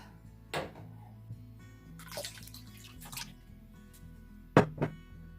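Homemade vinegar made from apples and grapes splashes into a container in a few short, wet pours and drips, faint and close, with quiet gaps between bursts.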